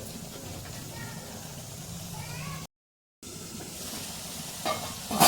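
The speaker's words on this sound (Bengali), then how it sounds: "মশলাটাকে ভালোভাবে একটু নাড়িয়ে নেব।" Spice masala fries in a pan while being stirred, a soft steady sizzle with occasional scrapes, cut by a short gap of silence and a few louder clanks at the end.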